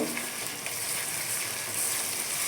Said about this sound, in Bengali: রসুনটাকে হালকা ভেজে নিতে হবে।